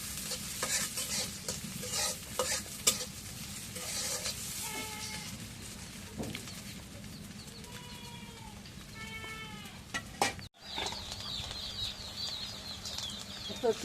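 Fish caught from a home paddy field and taro stolons stirred in hot oil in a pan, with a steady broadband sizzle and intermittent scraping strokes throughout, plus a brief dropout near the end.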